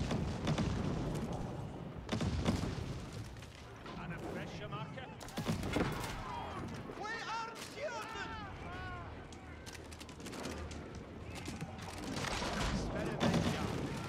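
Mangonel siege weapons firing in a real-time strategy game: repeated booming launches and impact thuds mixed with battle clatter, heard under a fast-talking commentator's voice throughout.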